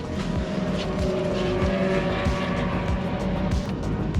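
A modified Volkswagen MK8 GTI heads out onto a race track, its engine droning steadily and fairly loud with repeated low rhythmic pulses and wind rush, no talking.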